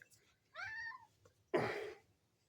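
A cat meows twice up close: a short wavering mew, then a louder, harsher meow a second later, with quiet room noise between.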